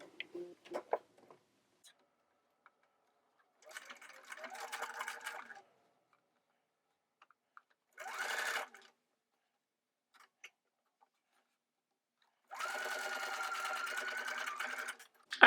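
A sewing machine stitching the side seams of a doll jumpsuit bodice in three separate bursts of fast, even whirring, close and clear, with quiet pauses between runs.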